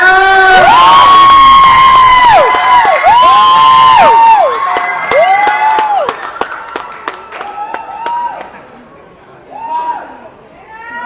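A loud crowd cheers and shouts with high excited voices, followed by scattered claps and whoops that taper off.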